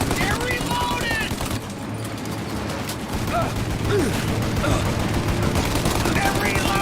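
Bursts of gunfire in a firefight crackle loud and dense throughout, mixed with shouting voices.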